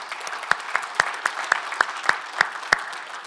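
Sparse applause from a conference audience honoring open-source package maintainers, about ten separate sharp claps spaced irregularly over a low room murmur, sounding like only a few people clapping.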